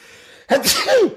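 A single loud, close sneeze bursts out after a quiet moment, with a sharp intake followed by a forceful explosive release.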